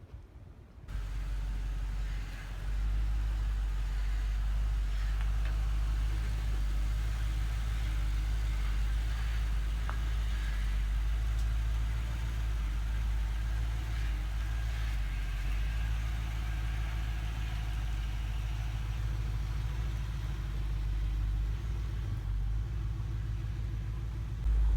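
A Ford F100 pickup riding on a swapped Crown Victoria frame drives off, its engine giving a steady, loud low rumble close by for the whole stretch, without speech.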